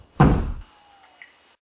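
One heavy, close thud of a foot stomping on a wooden floor to imitate the sound of a gallows, followed by a faint lingering ring and then quiet.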